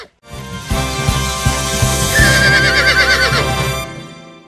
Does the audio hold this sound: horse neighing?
yes